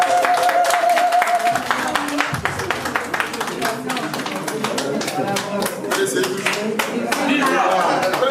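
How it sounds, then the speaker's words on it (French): An audience claps at a political party investiture ceremony in Grenoble, with bursts of applause mixed with a speaker's amplified voice and general room noise throughout. "Sous vos applaudissements, s'il vous plaît."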